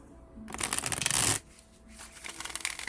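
Tarot cards shuffled briskly by hand, a dense riffling burst followed by softer, lighter shuffling that continues to the end; close and fairly loud, with no talking.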